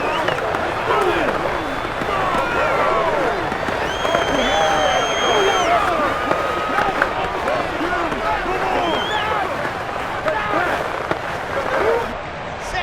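A stadium crowd in Madden NFL 22, Jets versus Patriots, roars loudly and continuously during a football game, with a dense wash of cheering voices and some speech mixed in.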